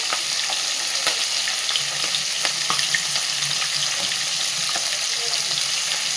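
Whole cumin and dried red chillies sizzle and crackle in hot oil alongside fish heads, a steady close frying hiss with scattered sharp pops and occasional stirring.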